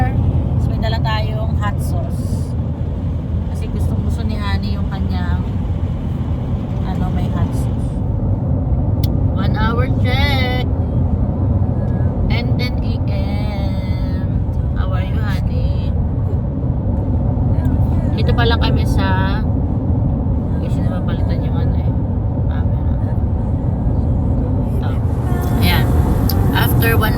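Cars and trucks pass steadily on a highway during a road trip to Portland, Oregon, a continuous loud road rumble heard from inside a moving car, with people talking over it now and then.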